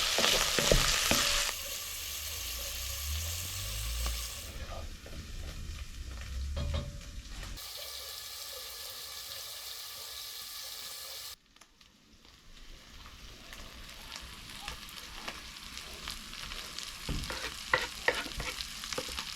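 Sausage and the white part of an onion fry in a pan at moderate heat, a continuous close sizzle with occasional stirring scrapes, the hiss dropping and rising as the pan is worked; no voices.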